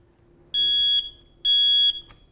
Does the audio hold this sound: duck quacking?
no